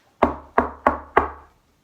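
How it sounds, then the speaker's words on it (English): A door knocker bangs on a door four times in an even rhythm, each knock sharp and close, followed by quiet. "Elizabeth grabbed the knocker and banged on the door again."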